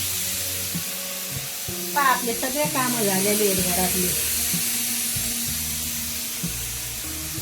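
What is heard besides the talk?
pressure cooker hissing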